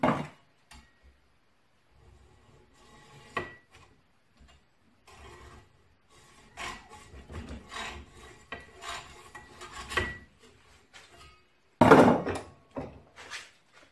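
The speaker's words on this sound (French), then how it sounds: "avec ma scie je vais dans les deux sens" Hand saw cutting a jammed piece while crafting a pen, quiet rasping back-and-forth strokes in irregular bursts, close up, with one sharper loud scrape near the end.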